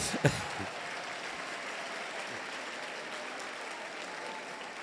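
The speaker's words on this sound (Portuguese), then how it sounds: "olha para quem está do teu lado aí e aplauda essa pessoa." A church congregation at a conference claps for one another, a continuous wash of applause with a couple of sharp louder claps at the start, moderately distant.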